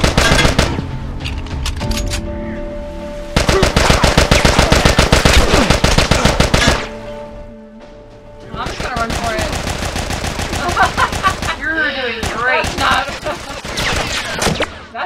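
Rapid automatic gunfire and scattered single shots in The Last of Us video game, loud sustained bursts with brief gaps, one pause midway before heavy firing resumes.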